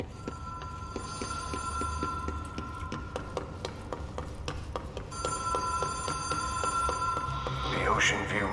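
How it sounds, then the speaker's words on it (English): A telephone bell rings repeatedly inside the game Control, in a steady run of bright, evenly spaced rings that carry on through the whole stretch alongside a low hum and some ambient clatter. "There's a phone ringing."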